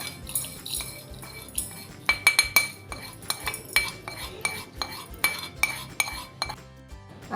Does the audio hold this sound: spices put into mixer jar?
yes